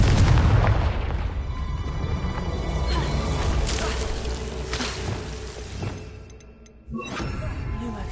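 A Confringo explosive spell from the Hogwarts Legacy video game goes off as a loud, dense booming blast that rumbles and decays over several seconds, then cuts to a sharp new burst near the end.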